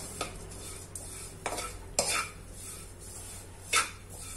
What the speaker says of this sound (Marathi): आता याच्यात आपण खोबऱ्याला थोडं चांगलं परतून घेऊया या खोबऱ्याला